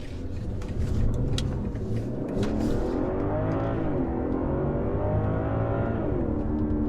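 A 2021 BMW 5 Series sedan accelerates hard from inside the cabin, its engine rumbling and rising in pitch through the gears with a brief shift dip, smooth and steady throughout.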